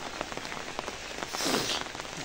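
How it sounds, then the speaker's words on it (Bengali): Steady rain patters on surfaces nearby, a dense continuous hiss with scattered individual drops standing out. "আর এখনো বৃষ্টি হচ্ছে।"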